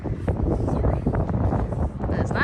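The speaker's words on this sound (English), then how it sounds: "It's windy out here." Strong wind buffets the microphone over Mobile Bay, a constant low rumbling roar with gusty fluctuations and no pause.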